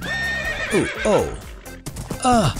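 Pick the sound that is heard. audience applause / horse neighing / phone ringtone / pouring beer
horse neighing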